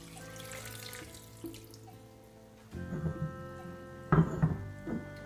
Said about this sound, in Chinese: 倒入适量的水